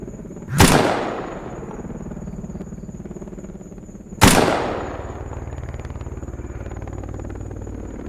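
Two sharp, loud unsuppressed gunshots from a weapon in the video game Escape From Pripyat, spaced about three and a half seconds apart, each with a decaying echo over a steady low hum.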